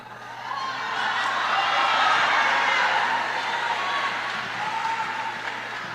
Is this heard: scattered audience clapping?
yes